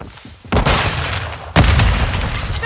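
A frag grenade goes off in Call of Duty: Modern Warfare II hardcore multiplayer, with two loud, close booming bursts about a second apart, each followed by a dense crackling rumble.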